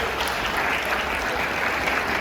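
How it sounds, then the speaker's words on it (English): A school assembly audience claps steadily in a dense, even burst of applause, filling the hall without talk. "Give them a round of applause"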